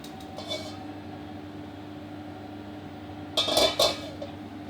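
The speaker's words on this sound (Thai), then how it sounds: "เปิดเตาตั้งกระทะน้ำมันให้เริ่มร้อนก่อนเลยนะ" A metal frying pan with oil clanks down onto a stovetop with a brief rattle, over a steady background hum.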